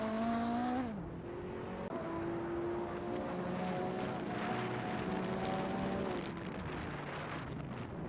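Hypercar engines at Spa in a racing simulator game, a sustained high engine drone whose pitch drops and climbs with gear changes, with a second car's tone layered in and a steady roar of wind and road noise beneath.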